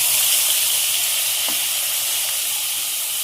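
Onion paste sizzling loudly in hot oil with reddened spices for a dahi rui fish curry, a steady bright frying hiss throughout with a faint stir near the middle.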